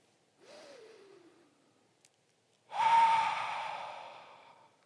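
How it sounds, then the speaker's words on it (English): Deep breaths from a group practising with eyes closed: a soft rising inhale, a tiny click, then a louder, fuller exhale that fades out slowly, with no talking. "I want us to take a deep breath together."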